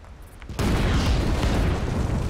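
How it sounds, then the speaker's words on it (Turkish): A loud explosion in the video game Red Dead Redemption 2 bursts in abruptly after a quiet moment, followed by a sustained heavy roar and rumble that lingers for about two seconds. "Güzel bir patlama oldu."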